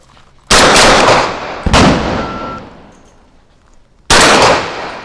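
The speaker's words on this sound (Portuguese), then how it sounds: "Você começou a atirar antes de ouvir o sinal." Three sharp, loud gunshots crack out during a basic shooting course test. Two come in quick succession and a third follows after a pause, each leaving a short decaying echo.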